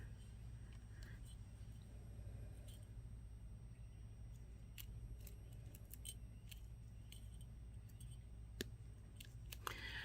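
Cutters snipping through a jewelry chain for a bar necklace, heard as faint, sparse metallic clicks and small snips against a low, steady background hum.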